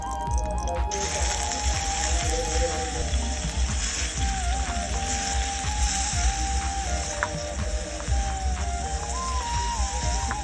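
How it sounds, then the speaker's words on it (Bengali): Radish frying in ghee in a pan, a steady close sizzle running evenly throughout with no talking. "ঘিতে ভেজে নিলাম এই তো মূলা ভালোভাবে ভেজে নিলাম"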